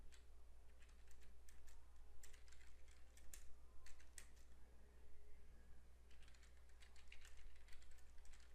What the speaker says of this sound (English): So now we can type our command.